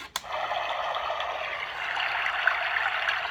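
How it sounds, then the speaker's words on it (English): Babbling brook white noise played to lull a baby to sleep: steady, even rushing and trickling water after a brief click at the start, continuous and moderately loud. "I put on the Brook sound for my son, and he dozed off"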